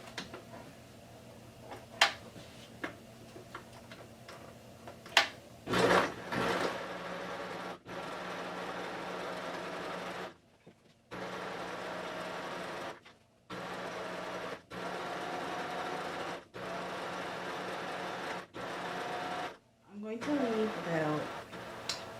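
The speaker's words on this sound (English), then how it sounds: "sew our waistband" A sewing machine stitches the waistband casing of a rectangle skirt in several bursts of steady mechanical whirring, separated by short pauses and clicks of fabric handling, with a voice talking at points.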